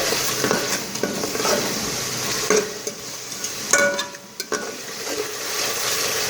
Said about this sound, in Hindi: टमाटर को अच्छे से भून लें।